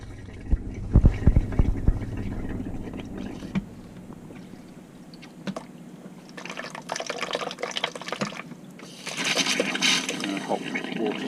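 Water runs and splashes from a caravan shower, first in uneven spurts and knocks, then settling into a steadier gushing flow that grows louder near the end.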